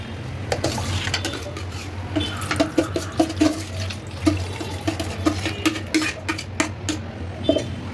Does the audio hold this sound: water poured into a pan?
yes